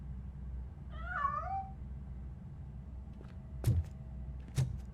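A cat in the video game RoboCop Rogue City gives a short rising and falling meow, then two sharp knocks follow over a low ambient hum.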